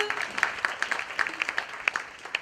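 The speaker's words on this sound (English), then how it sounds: "Give her a round of applause, people" Modest applause from a panel audience at a women's summit in Trivandrum, sparse distinct claps forming a thin, uneven patter that stays fairly quiet for the whole stretch.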